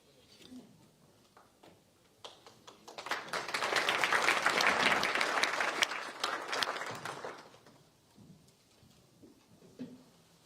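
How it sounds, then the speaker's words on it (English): An audience at a city's State of the City address breaks into applause that swells for a few seconds and then fades, with scattered speech before and after. "please give her a round of applause."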